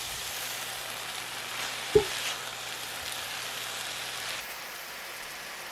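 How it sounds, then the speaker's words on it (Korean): Tomatoes with salt and olive oil sauté in a pan over medium heat, giving a soft, steady sizzling hiss with a couple of brief clicks and knocks. "중불에서 5분간 볶으세요."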